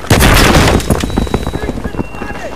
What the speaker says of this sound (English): C4 blowing!